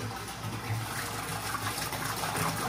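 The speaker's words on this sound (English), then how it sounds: "That is heated water coming into the fish room from my heater in the shop." Heated water from a shop heater gushes steadily into an aquarium system in a fish room, a continuous close, moderately loud rushing pour with no voices.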